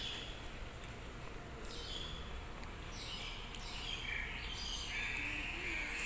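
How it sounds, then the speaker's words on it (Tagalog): Birds chirp in Neihu Park, thin high calls rising and falling over a steady outdoor hiss, faint and somewhat distant, with occasional brief tweets layered through the open air. "Ingay ng mga ibon."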